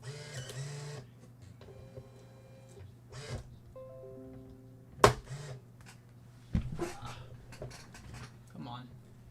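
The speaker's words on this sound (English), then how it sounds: "Why is my printer messing up?" An office printer running a print job in a live-stream room, a steady mechanical whir with clicks and a sharp feed clack midway, heard close under background room noise with brief bursts of talk.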